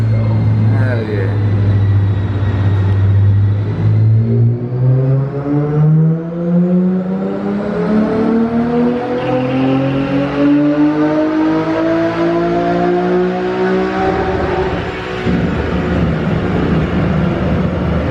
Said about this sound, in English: About to get a special view of the car on the dyno, man.